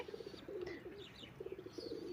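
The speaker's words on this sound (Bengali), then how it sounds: "আমার কবুতরগুলো শুধু ছাদের মধ্যে থাকে" Pigeons kept on a rooftop coo softly in a steady, repeated low rhythm, with a few faint chirps over it and no talking.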